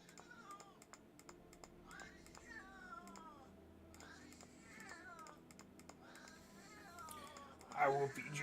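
A house cat meows several times in short, rising and falling cries. The meows come through clearly over quiet, rapid computer keyboard typing and clicking.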